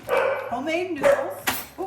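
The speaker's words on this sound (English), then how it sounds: "sorry for my dogs. They don't know how to be quiet." Dogs bark and yip close by in a home kitchen, several sharp barks and whimpers mixed in with someone talking.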